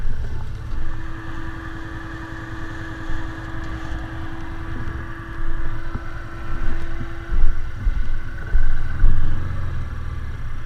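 An off-road vehicle drives out of mud after winching on a trail, its engine a low rumbling drone with surging bursts toward the end, close and fairly loud.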